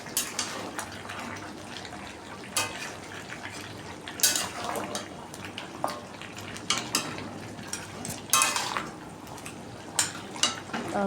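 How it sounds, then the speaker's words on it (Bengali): Mutton cooks slowly in a pan after its juices have run out, stirred now and then with sharp scrapes and clanks against the pan over a low, wet sizzle. "এদিকে মাংস কষানো হয়ে গেছে, মাংস থেকে জল বেরিয়ে গেছে। এবারে আস্তে আস্তে কষিয়ে নেব।"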